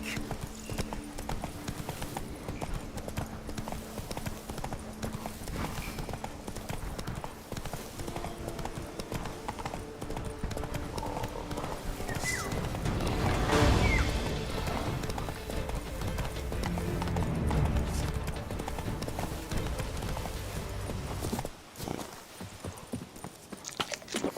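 Geralt's horse Roach clip-clops steadily in The Witcher 3, hooves striking in a continuous rhythm over a busy game soundscape that swells toward the middle and drops away near the end.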